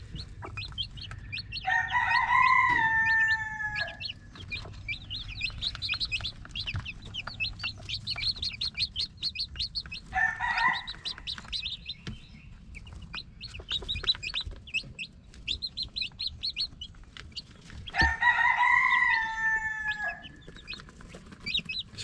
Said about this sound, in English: But all 6 baby chicks right now are out feeding